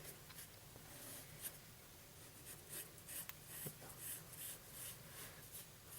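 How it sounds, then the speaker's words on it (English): Soft pencil scratching lightly across paper in quiet, steady strokes, with faint dry rubbing and small taps, close and gentle throughout. "I'm gonna be lightly drawing it out. So I'm holding the back of the pencil so that I won't put too much pressure onto the pencil."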